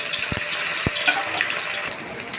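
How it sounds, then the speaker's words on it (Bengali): Eggs fry in hot oil in a wok, giving a steady close hiss with a few low knocks and clicks from the pan, no voices. "তেলটা গরম হয়ে গেছে, ডিমগুলো আমি হালকা তেলে ভেজে নেব।"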